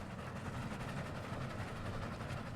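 A train running in the Roblox game Dead Rails, a continuous low rumbling roar with faint rhythmic clatter, steady and fairly quiet throughout.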